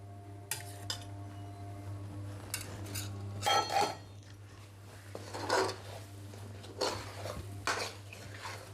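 Spoon clinking and scraping against a metal pot while ghee is stirred into a tender-leaf tambuli, several distinct scrapes and clinks over a steady low hum.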